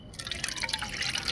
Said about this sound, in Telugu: చూడండి ఆ వాటర్ని అంతా పక్కకు తీసేసుకుని